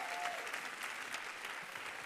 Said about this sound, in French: On applaudit encore! Très fort!